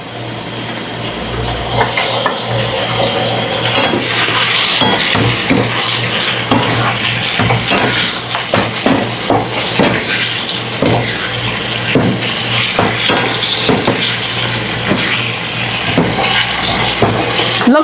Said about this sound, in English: Be sure to stir it all the way so that the cornstarch doesn't stay at the bottom.